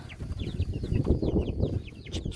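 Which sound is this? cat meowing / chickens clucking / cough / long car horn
chickens clucking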